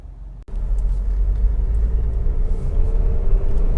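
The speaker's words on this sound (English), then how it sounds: "this is a road test video, and this is for a Honda Cr-V 2-litre EX automatic" Honda CR-V 2.0 EX automatic from 2010 on a road test, a steady low cabin rumble of engine and tyres that starts abruptly after a brief cut and holds constant with no talk.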